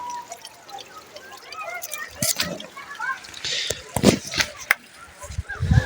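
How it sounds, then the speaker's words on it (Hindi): Water pours and trickles among greenery outdoors, a steady splashing flow with brief louder spatters, while someone talks over it. "ये सब्ज़ा और पानी की आवाज़"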